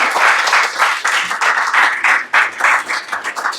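A hall audience applauds loudly after an impassioned speech at a constitution awareness event, sustained close clapping from many hands, pulsing slightly as it continues.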